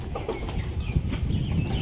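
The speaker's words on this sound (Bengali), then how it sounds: "পায়রা হাতে আসে না একটু ছটপট করছে" A match-playing pigeon held in someone's hand flutters and struggles, giving close, uneven wing flaps and rustling with a few faint bird calls in the background.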